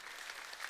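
A church congregation claps briefly, a soft, distant patter of many hands heard in a short burst.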